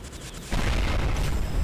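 An explosion in the Roblox game Sonic Rebooted sets off a sudden loud, dense burst that keeps roaring for about a second after a quieter lead-in.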